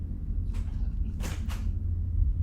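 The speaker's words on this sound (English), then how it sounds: "You hear your closet door open." A closet door swings open in a dark, quiet bedroom, giving two or three soft creaking scrapes over a steady low rumble, close by and alone.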